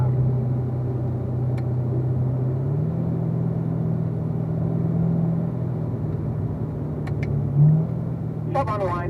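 A Corvette Z06 automatic drives a race track, its engine a steady low drone with a small pitch shift as it drops a gear, heard from inside the car with a voice talking over it.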